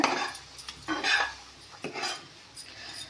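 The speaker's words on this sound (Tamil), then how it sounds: "கட் பண்ணி வச்ச முட்டை இதோடு சேர்த்துடலாம். சேர்த்துட்டு இது நல்லா மிக்ஸ் பண்ணி விடுங்க." Chopped boiled eggs being mixed into a butter garlic sauce in a pan, with close spoon clinks and scraping strokes over a faint sizzle, no talking.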